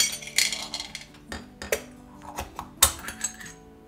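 Small metal espresso machine parts from a Puro machine clink and clatter as they are dropped into a soaking container, bright irregular knocks close by with quieter scraping between them.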